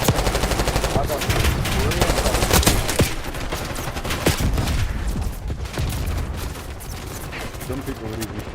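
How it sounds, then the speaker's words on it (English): Rapid video game gunfire rattles loudly and almost without pause, bursts of shots layered over a dense game soundscape, with a voice talking faintly underneath. "Testing him, yeah, he was shooting me for that."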